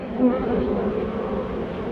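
Buckfast honeybees hum steadily inside an opened hive during a spring colony inspection, a dense continuous buzz close by that holds even throughout.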